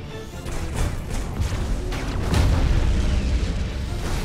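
A defense pylon blows up in the space battle game Battlefleet Gothic Armada 2, a sustained rumbling blast that swells louder partway through amid dense combat noise.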